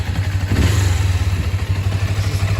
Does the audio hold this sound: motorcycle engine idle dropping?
yes